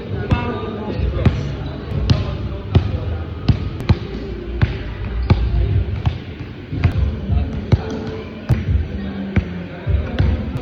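Basketball dribbling drill with pound and push-cross moves, steady rhythmic ball bounces on a hard court, close and loud, with a coach's voice talking over them.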